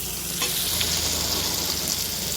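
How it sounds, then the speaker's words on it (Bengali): Spices frying with amla in a pan, a steady bright sizzle with occasional scraping stir strokes, close and continuous with no talking. "এক এক করে সমস্ত মশলাগুলো দিতে হবে আমাকে মশলাটা ভাজাও হয়ে যাবে"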